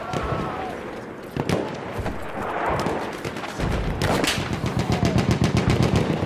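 Rapid machine gun fire in a World War I first-person shooter featuring the Ross Mark III rifle, dense bursts of gunshots and booms layered over battlefield noise, with a steady rattling volley growing louder toward the end.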